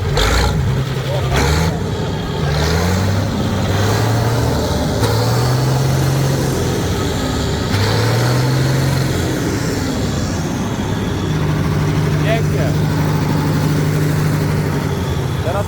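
A combine harvester's diesel engine, a Bizon Rekord Z058, runs steadily throughout, its low rumble rising and falling in pitch as it revs, with people talking over it.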